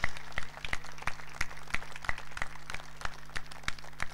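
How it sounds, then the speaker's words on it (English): Steady, evenly spaced handclaps from a small audience at a reunion gathering, close and moderately loud, ringing over a low electrical hum without other voices. "I think they need a big round of applause."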